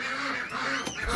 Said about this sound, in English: And then I've got some baby ducks over here.